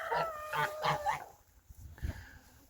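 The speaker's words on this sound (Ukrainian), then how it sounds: "Курочки, гусочки, качечки, індики наші снідають" Chickens, geese, ducks and turkeys cluck and call in short bursts up close while feeding in a frosty winter farmyard, then a quieter stretch with a few scattered thumps and rustles outdoors.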